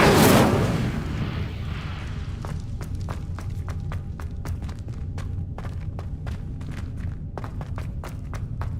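A fire spell is cast in Hogwarts Legacy, beginning with a loud burst followed by a long roaring rush, scattered with sharp crackling pops that continue to the end, with no talking.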